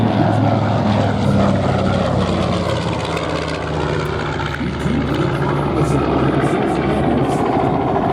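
A World War II B-25 bomber runs its radial piston engines at an airshow in New York, a loud, steady propeller drone with a throbbing low rumble that fills the whole stretch without letup.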